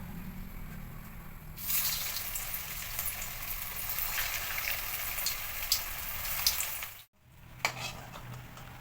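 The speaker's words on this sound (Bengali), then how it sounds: "এবার তেলের ভিতর চপ ছেড়ে দেবো," Banana flower chops slid into hot oil in a kadai, a quiet simmer bursting into loud, steady sizzling and crackling that continues for several seconds before a brief cutoff and return.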